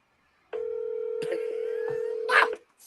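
A steady telephone tone holds for about two seconds and ends in a brief burst of keypad dialing beeps, with a few faint clicks along the way.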